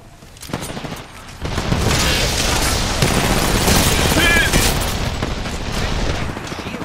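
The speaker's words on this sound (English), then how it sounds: "The enemies are shooting at me." Enemy gunfire in Apex Legends bursts in dense, rapid volleys of shots with booming impacts, loud and sustained over several seconds, while a player talks over the action.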